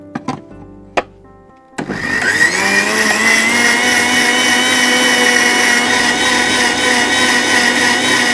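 A kitchen grinder blends soaked poppy seeds into paste. A few sharp clicks come first, then the motor starts into a loud, steady whirring drone that holds to the end.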